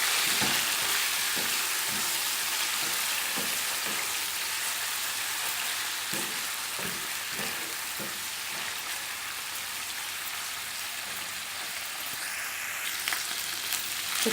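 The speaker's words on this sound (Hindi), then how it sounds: "अब इसमें हम डाल देंगे अपना चिकन। इसको तब तक पकाएंगे जब तक आपका चिकन लाइट ब्राउनिश कलर का ना हो जाए।" Chicken pieces sizzle and fry steadily in a hot pan while cooking for Singaporean rice, a continuous close crackling hiss with occasional stirring clicks throughout, no voices.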